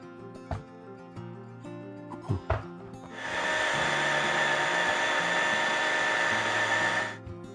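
A power polisher with a renew pad works a quartz surface, first a few knocks and taps, then the motor whirs up into a steady, loud high whine for several seconds before it stops.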